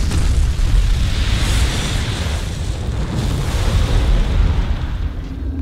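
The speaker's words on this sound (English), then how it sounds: "Some of my favorite versions are the Red Ring of Death. I love the sound effect and the flash" The Red Ring of Death gun in a Jak and Daxter game fires with a loud, sustained roaring blast, a dense rumbling wash of sound that holds throughout.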